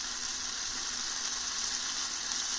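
Green beans sizzle steadily in a hot pan, a close, constant crackling hiss with no talking.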